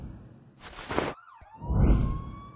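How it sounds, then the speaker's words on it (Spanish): Police sirens wailing before dawn, a rising and falling electronic tone sweeping up and down, with a loud burst of noise mid-clip, heard alone. "Las sirenas rompieron el silencio antes del amanecer."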